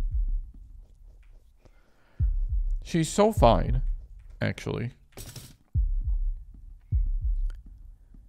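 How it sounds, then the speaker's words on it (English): In the video game Fear & Hunger 2: Termina, the God of the Depth's deep heartbeat thuds in slow double pulses, low and throbbing, with a person talking over the middle of it. "God of the Depth heartbeat."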